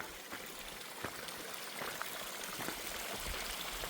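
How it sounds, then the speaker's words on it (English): A small mountain stream running off a hillside on the Appalachian Trail trickles and babbles steadily nearby, a soft continuous wash of water with occasional splashy gurgles. "We keep stepping over these little streams coming off the hill."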